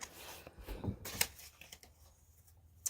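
A deck of cards is shuffled by hand, giving a few quiet, brief papery riffles and flicks separated by short pauses, faint and close, with no speech.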